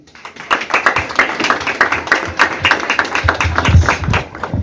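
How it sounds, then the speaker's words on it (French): An audience applauds the godfather of the 2022 "Titan" graduating class at a CETEFEM graduation ceremony in Petit-Trou-de-Nippes, with sustained clapping from many hands that builds steadily and stays dense throughout, with no voices over it. "Je vous demande de l'applaudir plus bien et plus fort, mesdames et messieurs."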